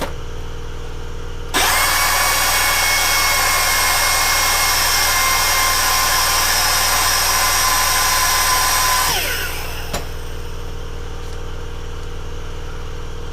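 A carburetor metering rod clip being ground down with a power tool: a loud, steady high-pitched whine lasting several seconds, then winding down to a lower motor hum.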